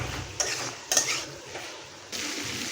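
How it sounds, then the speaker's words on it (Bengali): Fried potatoes stir-fried in spice masala for a prawn malai curry, a spatula clanking and scraping against the pan in a few sharp knocks over a soft, low background sizzle. "এবার কষতে থাকবো কিছুক্ষণ"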